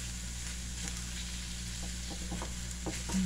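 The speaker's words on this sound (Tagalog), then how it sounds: "Kunting luto lang yan guys kasi tuna yan, mabilis lang yung maluto." Tuna frying in a pan with sinigang mix, a soft steady sizzle with a few faint stirring clicks, close but quiet over a constant low hum.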